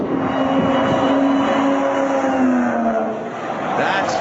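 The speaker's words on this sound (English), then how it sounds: "That's another car starting up." A supercharged race car engine starts up and runs near Pocono, a steady droning roar with a rising tonal whine that holds for several seconds and then eases off.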